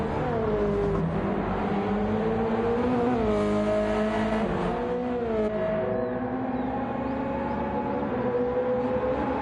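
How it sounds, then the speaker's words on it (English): Racing car engines drone in a sim racing game, with a steady loud tone that rises and falls in pitch as the cars shift and accelerate through a lap. It runs constantly, with no talking. "DJ Master coming around now into the final sector to start his final lap very shortly"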